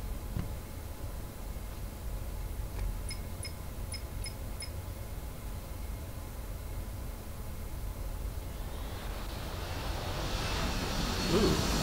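Batman's jet in Batman Arkham Asylum rumbles overhead as a broad roaring wash of engine noise that swells louder toward the end, with faint ticking tones early on.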